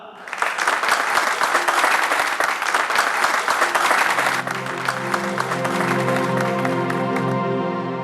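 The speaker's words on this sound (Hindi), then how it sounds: "तो एक बार जोरदार तालियां हो जाएं हमारे इस प्ले के लिए" Theatre audience applauding a play with steady, dense clapping throughout. Near the end some cheering and a swelling music tone join the applause.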